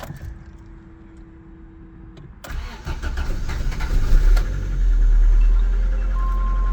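A Honda Civic EF sedan, its timing belt just retimed, cranks briefly with a whirring starter, then catches and roars into a rough, rising idle close by, with no one talking.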